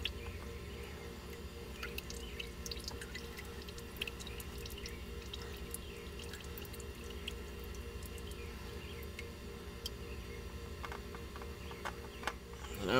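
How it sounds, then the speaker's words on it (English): Used oil drains from a Toyota Corolla's oil filter into a drain pan, a faint continuous trickle with soft drips and occasional small splashes. "Now we're draining it out of the oil filter. Into the pan."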